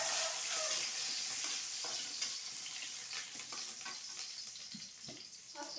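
Curry leaves and pandan leaves frying in oil in a pan, a steady bright sizzle with occasional stirring scrapes and pops, close and continuous without any talk.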